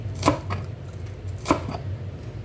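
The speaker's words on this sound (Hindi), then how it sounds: "ये मैंने प्याज कुतर दी।" A knife chopping white onion on a board, two distinct, fairly close chops about a second apart against a quiet background.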